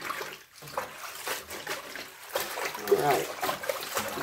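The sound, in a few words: water splashing while washing mustard greens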